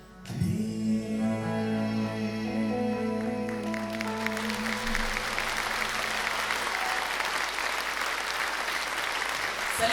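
Audience applause at a concert hall, a dense sustained clapping that swells in as the closing sung note fades and then continues loud and steady throughout.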